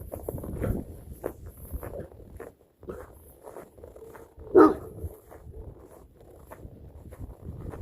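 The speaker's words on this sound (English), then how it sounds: "Big ass dogs." Big dogs bark a few times during a nature walk, with one sharp, louder bark standing out midway among rustling footsteps and clothing noise.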